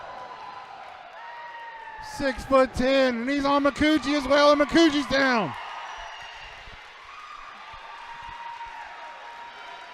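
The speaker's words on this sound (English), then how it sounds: "Listen to this crowd." A wrestling arena crowd at an SFCW independent show erupts in loud cheers and shouts. A commentator talks before and through the roar, which fades back into murmur after a few seconds.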